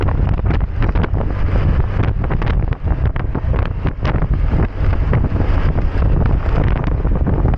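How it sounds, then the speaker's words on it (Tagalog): Strong wind buffeting the microphone during a solo motorbike ride on a coastal road, a loud, constant roaring rumble with gusty flutters and no audible talk. "Medyo malakas-lakas ang hangin."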